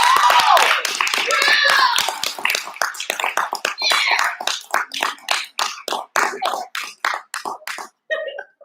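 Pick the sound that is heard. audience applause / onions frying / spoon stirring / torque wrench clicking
audience applause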